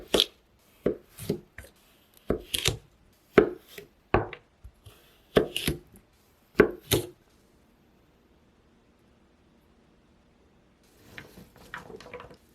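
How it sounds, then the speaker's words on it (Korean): A knife slices a peeled, halved carrot diagonally on a cutting board as it is turned bit by bit, giving about a dozen crisp, close chops in uneven bursts, then a long pause and faint handling noises. "왼손으로 당근을 조금씩 돌려가면서 어슷하게 썰어주세요."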